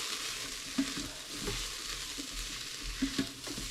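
Chilli con carne spices sizzle and fry steadily in a hot pan, a constant close crackle with a few light stirring clicks and no talking.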